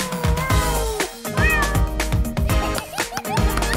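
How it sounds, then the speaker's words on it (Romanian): Kitten meowing repeatedly in short, high, wavering calls, loud and close, over a busy backing of music and other sounds. "Prima ta pisicuță!"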